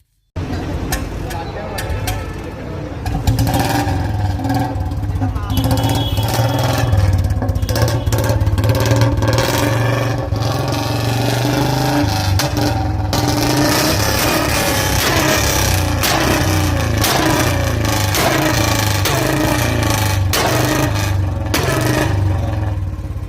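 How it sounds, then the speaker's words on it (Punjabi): Several Bullet motorcycles with loud aftermarket silencers rumble and rev steadily up close, their heavy throbbing exhaust filling the whole stretch with bursts of revving, with voices talking over the engines. "ਤੁਸੀਂ ਖੁਦ ਵੀ ਸੁਣ ਲਓ ਇਨ੍ਹਾਂ ਬੋਲਟ ਮੋਟਰਸਾਈਕਲਾਂ ਦੇ ਸਲੰਸਰਾਂ ਦੀਆਂ ਆਵਾਜ਼ਾਂ"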